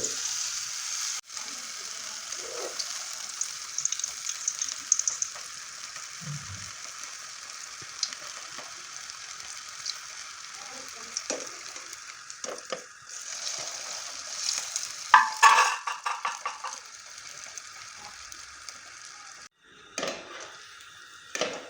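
Raw banana slices frying in hot oil, a steady close crackle and hiss running throughout with occasional louder bursts of sizzling, no voices.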